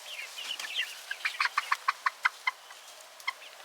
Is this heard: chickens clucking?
yes